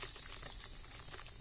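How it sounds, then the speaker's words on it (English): A stirred mix of water and soda in a homemade cell fizzes with a soft, steady hiss of tiny bubbles, faint and continuous throughout with no voices. "More fizzing ensues."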